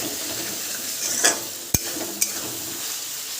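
A sauce of vinegar, tomato sauce and chopped green chilli for chicken chowmein is stirred in a pan, with a soft sizzle and a few sharp clinks of the spoon against the metal.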